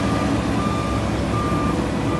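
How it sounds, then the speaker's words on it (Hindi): A gravel truck on a Canadian road construction site sounds its reversing alarm, repeated steady beeps over loud engine rumble and site noise. "ये ट्रक है"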